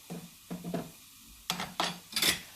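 A pot of broad beans curry with Kashmiri chili powder is stirred in short scraping bursts, about five strokes in two uneven groups, close and fairly loud, with no talking.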